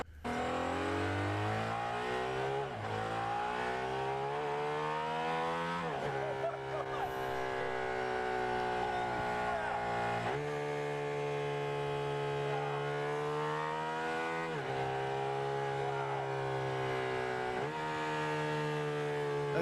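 Race-car engine revving hard through repeated rising gear pulls with sharp drops at each shift, loud and sustained, with a faint tire squeal.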